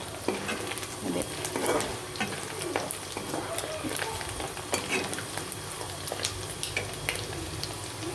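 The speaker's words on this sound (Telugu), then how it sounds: "ఆల్రెడీ సగం ఫ్రై అయిపోయినాయి, ఇంకొంచెం సేపు వేపుకుందాం" Prawns half-fried in a pan for a prawn pickle, a steady sizzle broken by frequent scraping stirs of a spatula, with soft talking now and then in the background.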